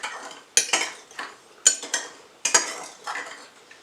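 A spoon stirs lemon bread batter in a bowl, giving sharp clinks and scrapes in irregular bursts, with several distinct knocks against the bowl and soft mixing in between. The sound is close and there is no talking.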